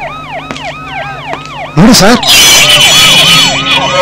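A wailing ambulance siren rises and falls in a film scene, loud and close, joined midway by a burst of crowd commotion, with someone briefly speaking over it.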